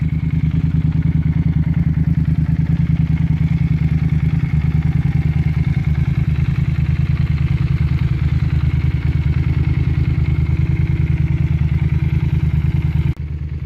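A Yamaha TDM 900 motorcycle with an Akrapovic exhaust runs at a steady idle, a deep, loud, throbbing engine rumble held close and constant before cutting off abruptly at the end, with no talking.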